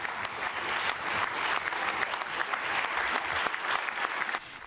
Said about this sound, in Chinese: 议员们全体起立鼓掌